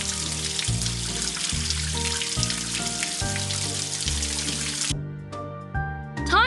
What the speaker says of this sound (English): Let's rinse the bubbles away now.